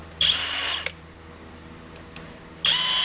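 A budget cordless power drill whirs loudly in two bursts with a short pause between, switching tone slightly as it runs through its speeds; no talk over it.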